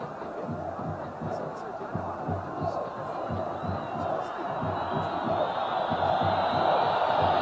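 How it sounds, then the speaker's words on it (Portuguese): A packed football stadium crowd at a 1992 São Paulo versus Corinthians Campeonato Paulista match chanting olé, a rolling distant roar that builds steadily, with a commentator talking over it. "Aí a torcida pede olé."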